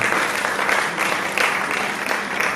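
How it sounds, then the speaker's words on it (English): A conference audience gives a sustained round of clapping for the panelists and moderators at an International Women's Day event, a loud, steady wash of many hands with gentle swells and no clear voices. "Please let's put our hands together for all our panelists and our moderators."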